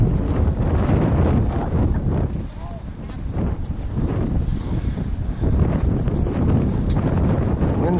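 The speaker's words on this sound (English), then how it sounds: "Wind's blowing." Strong wind buffets the microphone on a cold November beach with snow flurries, a loud, continuous roar and rumble that swells and eases throughout.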